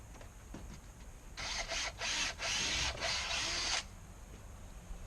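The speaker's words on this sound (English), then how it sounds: "I'm going to get through that with this 9/16 drill bit." A drill bores through a brick wall layer with a 9/16 bit, a loud steady grinding burst of about two and a half seconds with brief dips, preceded and followed by quiet room noise.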